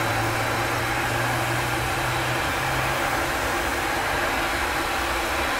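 An A-10C Thunderbolt II jet engine spooling up in Microsoft Flight Simulator: a steady, loud, broadband roar with an even whine, constant throughout with no talking.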